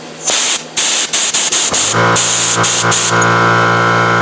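WD-40 mist hissing out of an air ratchet driven by a weak air compressor, loud bursts of spray in short pulses, then a steadier hiss with a motor hum underneath.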